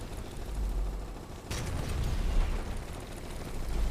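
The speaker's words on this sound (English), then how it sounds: "Oh, all this gunfire." Gunfire in a competitive tactical shooter match sounds as a faint, muffled stream of bursts and pops, with a louder volley about halfway through, heard from a distance with no talk.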